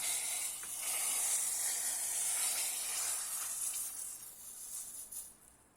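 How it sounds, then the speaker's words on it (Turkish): Hot spiced oil hits a pot of boiling winter soup and sizzles in a steady, bright hiss that swells, holds, then fades toward the end, heard close with no talk. "Hazırladığım yağımı kaynayan çorbamın üzerine ekliyorum."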